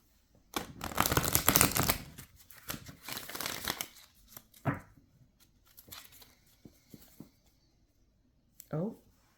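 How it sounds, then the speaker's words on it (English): A deck of oracle cards is shuffled by hand up close, with a few seconds of papery riffling followed by lighter handling and card taps, and a voice speaking around it. "Being guided to pull one of these cards as well."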